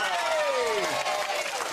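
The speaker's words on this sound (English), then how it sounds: "Give yourselves a big cheer." Studio audience at a children's television show cheering and clapping, a loud continuous wash of applause and shouts sustained throughout with a falling tone sweeping beneath.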